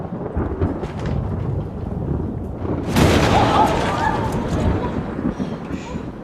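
A heavy thunderclap bursts during a rainstorm, a loud rumbling crack that rolls on for several seconds over steady rainfall, while a voice speaks underneath.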